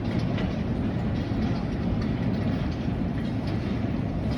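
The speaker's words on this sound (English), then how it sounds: "It gives you the train sound for Chattanooga choo-choo when the bags are coming." A recorded train sound effect playing steadily at an airport baggage claim, a loud chugging rumble with rhythmic clatter filling the space, no speech.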